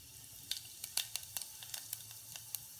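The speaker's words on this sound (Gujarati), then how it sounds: "હવે નાખીશું જીરું" Cumin seeds dropped into a spoonful of heated oil for a Gujarati bajra shaak, giving a soft, steady sizzle broken by a series of sharp crackles and pops scattered across the clip, with no voices.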